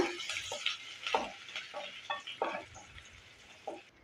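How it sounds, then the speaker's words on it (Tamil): Sliced onion and curry leaves sautéing in hot oil for a brinjal fry, with a soft continuous sizzle broken by repeated scraping stir strokes from a spatula in the pan, close up and without talk. "இப்போ எண்ணெய் காஞ்சதும் வெங்காயம் கருவேப்பிலை பத்து இப்போ நல்லா வதக்கி எடுத்துக்கோங்க"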